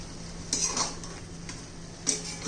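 A spoon scrapes and clinks against a pan while guar bean curry with peanut powder is stirred, a few sharp metallic knocks over a quiet low hum.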